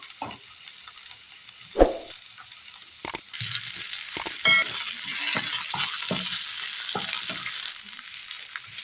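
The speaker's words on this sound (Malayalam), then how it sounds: "ചെറിയുള്ളി നന്നായി വഴന്ന് കിട്ടിയിട്ടുണ്ട്" Small shallots sauté in a pan for a Kerala curry, giving a steady close sizzle broken by several sharp scrapes and knocks of stirring.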